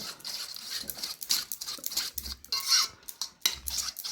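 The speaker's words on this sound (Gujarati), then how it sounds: "આ ત્રણેય વરું બરાબર મિક્સ થઈ જાય એવી રીતે આપણે ચમચીની મદદથી હલાવી લેવાનું છે।" A spoon mixes gram flour, aloe vera and curd into a paste in a small bowl, with quick uneven scraping strokes and light clinks against the bowl sides, close and clear.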